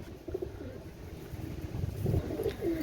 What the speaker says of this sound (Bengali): আপনারা কবুতরগুলোর কোয়ালিটিটা দেখেন